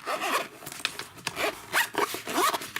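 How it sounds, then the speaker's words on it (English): A zipper on a Filofax Pennybridge tablet case is pulled closed in several quick, raspy strokes, close up and alone. "Zipper it up."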